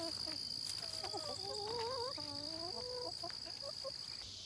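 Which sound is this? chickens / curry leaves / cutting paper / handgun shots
chickens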